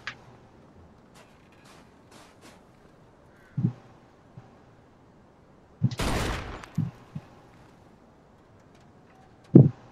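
Gunshots from a gun being tested on an old wreck in the video game Mafia 2, a few sharp separate shots with a longer noisy burst in the middle, loud against a quiet background.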